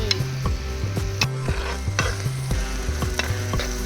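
Curry leaves being stirred into a fish curry in a pan, with steady rhythmic scraping strokes of a spoon roughly every half second over a constant loud sizzle of frying onions, ginger and garlic paste.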